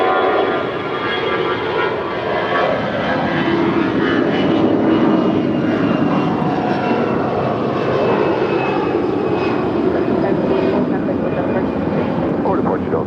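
A 29-year-old Delta Airbus A320-200 on flight 1041 to Dallas Fort Worth rumbles steadily at LAX, a continuous jet engine roar with faint whine, while someone talks throughout.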